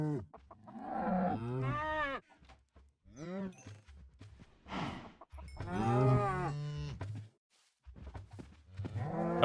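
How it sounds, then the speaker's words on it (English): Minecraft cows let out several drawn-out synthetic moos in short bursts while being bred, with a player talking in between the calls. "All right, now to make some baby cows."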